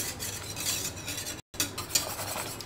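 A milk and cornflour mixture for ice cream is whisked and stirred in a bowl, a soft continuous swishing with light utensil clinks, close and fairly quiet, cut by one brief silent gap.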